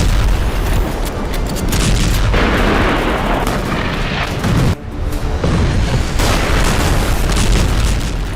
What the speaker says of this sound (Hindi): इजराइल लगातार बमबारी कर रहा है